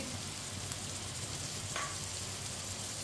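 Finely chopped tomato and two green chillies frying with garlic and onion for dal palak, giving a steady, dense sizzle throughout with a faint stirring scrape near the middle.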